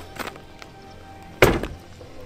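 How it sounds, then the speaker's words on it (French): Trunk lid of an Aston Martin DBS Superleggera, a 725 hp GT, pulling itself shut with its soft-close mechanism: one firm, muffled thunk close by after a light knock, no talk. "Soft close également sur le coffre."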